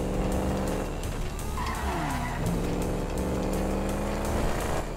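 A big motorcycle in Grand Theft Auto V, its engine droning loudly with tires squealing and skidding across the road, close and continuous, with no speech.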